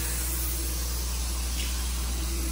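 Hot spray foam insulation being sprayed in a new shop, a steady loud continuous hiss with no break and no talk.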